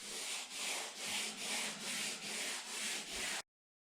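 Rhythmic sanding, about eight even back-and-forth strokes scraping across a surface, close and steady, then stopping abruptly.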